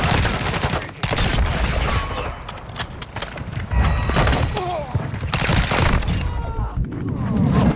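Gunfire in a Modern Warfare-style shooter, with repeated heavy booming blasts and dense bursts of shots over loud in-game noise, sustained and close throughout.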